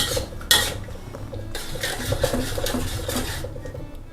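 Soy sauce is stirred in a hot pan for soy-steamed fish, making a steady, close sizzle mixed with scraping and clattering of a utensil against the pan.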